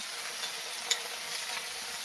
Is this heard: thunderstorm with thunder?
no